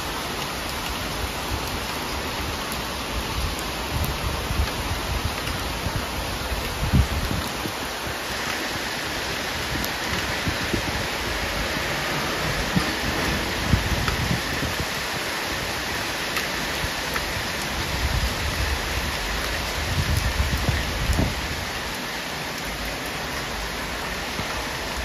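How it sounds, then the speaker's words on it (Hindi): Steady rain pours down in a dense, continuous hiss that stays constant throughout, close and fairly loud, with no one speaking. "देखिए बारिश बारिश बारिश अच्छा लगता है कैप्चर करने के लिए।"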